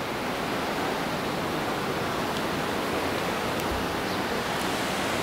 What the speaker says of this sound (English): Dang, look at the streams today, boys